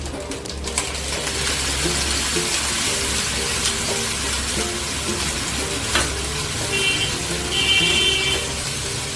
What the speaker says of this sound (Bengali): ভালো করে মশলাটা আবার কষে নেব।